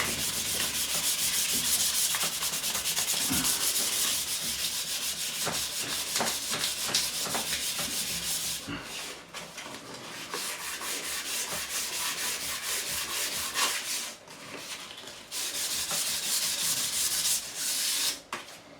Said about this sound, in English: So I've decided to go with just some 240 grit, like so.